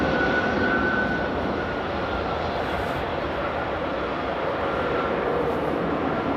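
A heavy airplane at Amsterdam Airport, its engines giving a loud, continuous broadband roar that holds steady throughout, heard from nearby with no talk.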